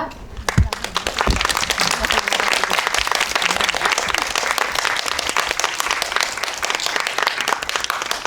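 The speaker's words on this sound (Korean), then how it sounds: "두 분의 게스트를 큰 박수로 맞이해 주시기 바랍니다." An audience at a film talk event in a cinema gives applause to welcome a director and an actress, with loud, dense, sustained clapping that fills the room after a brief spoken introduction.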